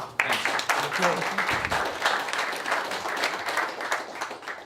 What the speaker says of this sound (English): So I'd just like to recognize him and give him a round of applause.